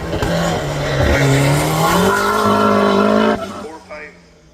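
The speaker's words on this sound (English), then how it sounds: "Vauxhall 16 valve, which is then turbocharged. You can hear it whistling." A turbocharged Vauxhall 16-valve engine in a race car at a hillclimb, close and loud, with a steady high turbo whistle riding over the droning engine, rising in pitch before the car pulls away and fades.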